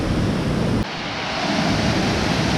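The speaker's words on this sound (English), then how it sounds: "we've reached what's called Avalanche Falls" Avalanche Falls in Flume Gorge, New Hampshire, roars as a dense, continuous wash of falling water, loud and close, with a brief dip in level partway through before the steady rush resumes.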